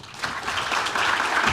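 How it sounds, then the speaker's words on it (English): Audience applause welcoming a keynote speaker at a forum, a dense wash of clapping that swells quickly and holds steady for a moment, moderately loud and fairly close. "Please give a warm round of applause for Michael Colgrove."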